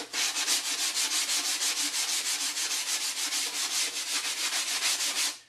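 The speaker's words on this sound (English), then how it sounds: "get your sanding sponge again and sand all the surfaces that you put wood filler on." A sanding sponge scrubs over wood filler on a foam tombstone prop, giving a steady, rapid back-and-forth rasp that runs continuously and loud, close up with no talking.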